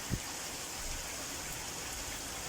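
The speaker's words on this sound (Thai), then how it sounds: "เสียงฝนจนตื่นขึ้นมาเนี่ย" Rain falls during a storm in Denmark, a faint, steady wash of drops that holds evenly from start to finish with no voices.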